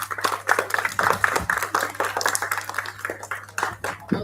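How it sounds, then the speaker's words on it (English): Applause from an audience at a school literacy-week assembly: steady, dense clapping that runs the full few seconds at moderate level, with a faint low hum underneath. "Let's give them a bigger round of applause."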